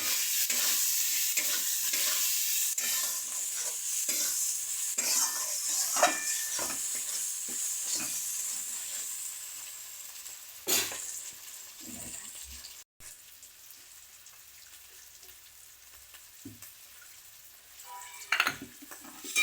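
Chopped tomatoes frying with spices in a pan, a soft steady sizzle under frequent spatula scrapes and occasional clinks against the metal, close by and fairly quiet, fading toward the end.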